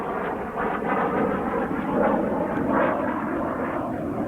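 Airplane engine at the 1995 Aviation Heritage Air Show in Clark County, Indiana, a loud continuous roar that rises and falls in pitch as the plane flies aerobatic aileron rolls overhead, with no talking.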